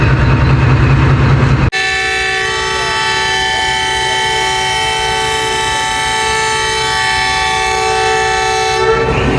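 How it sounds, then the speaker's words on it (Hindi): A Chinese-built 2200 horsepower locomotive hauling the Jaffar Express sounds a loud, sustained multi-tone horn that starts abruptly and holds steady for about eight seconds, with rail and station noise just before it. "पेशावर से लाहौर तक 2200 हॉर्स पावर का चाइनीज़ लोकोमोटिव है"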